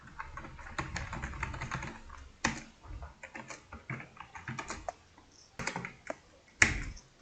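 Someone types on a computer keyboard while entering data in an Excel spreadsheet: quiet, close, irregular clicks in short bursts, with a few louder keystrokes between pauses.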